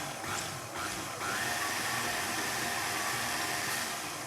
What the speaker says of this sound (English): Popped it onto my stand mixer with the dough hook attachment, and I'm just going to give it a whiz